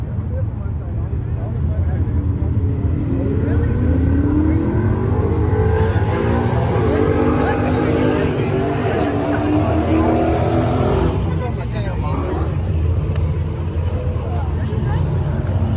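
A straight-piped Camaro SS revs loudly and close by at a car meet, its deep rumbling exhaust rising in pitch and holding steady for several seconds, with people talking over it.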